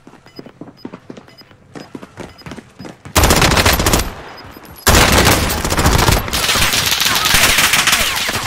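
Gunfire in a shooter video game: scattered single shots and footsteps at first, then loud sustained bursts of automatic fire that pause briefly and start again.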